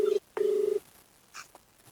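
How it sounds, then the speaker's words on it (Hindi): An outgoing phone call's ringback tone sounds in two steady beeps with a short gap between them, followed by faint background noise. "मगर रिंग हो रहा साहब का फोन।"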